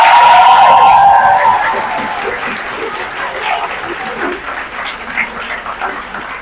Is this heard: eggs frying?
no